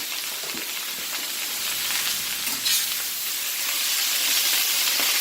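Meatballs sauté in a pan, a loud continuous sizzle with a steamy hiss that swells slightly, plus a few faint stirring knocks early on. Nobody speaks.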